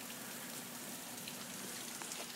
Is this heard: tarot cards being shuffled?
no